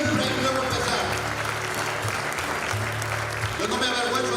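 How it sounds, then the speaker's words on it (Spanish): Church congregation applauding at a Spanish-language sermon, a steady wash of clapping filling the room with a continuous hum beneath, loud and sustained throughout. "Dale un fuerte aplauso a la iglesia del Señor."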